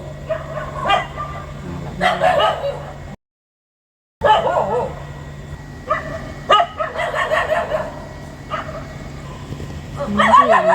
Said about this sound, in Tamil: சேர்ந்துருச்சுல நாலஞ்சு நாயா சவுண்டு கேட்குது